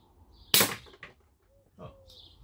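Handgun fired while plinking outdoors, one sharp crack followed by a faint second pop, with quiet background sounds around it.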